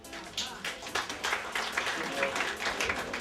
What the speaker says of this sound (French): Donc je vous demande d'applaudir l'initiateur du projet, Félix.